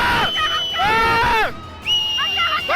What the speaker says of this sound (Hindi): चारों तरफ चीख पुकार और दहशत का शोर मचने लगा